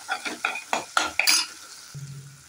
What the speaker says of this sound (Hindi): मिक्स कर लेते हैं अच्छे से।